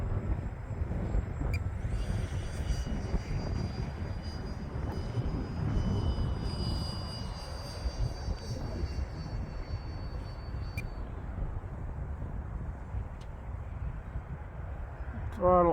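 Freewing MiG-15 model jet with a 64mm electric ducted fan flying in strong wind, a steady whooshing fan whine with heavy wind buffeting on the microphone, holding loud throughout with brief higher tonal streaks.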